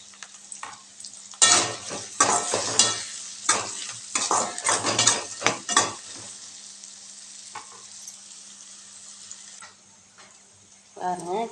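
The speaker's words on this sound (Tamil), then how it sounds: "நல்லா வெங்காயம் நல்லா வதங்கி வரணுங்க." Clattering stirring and scraping of onions in a pan over a steady sizzle, with bursts of busy activity early on, then a quieter stretch of low frying.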